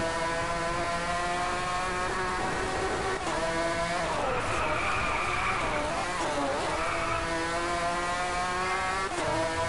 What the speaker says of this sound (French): je crois que c'est une bagnole électrique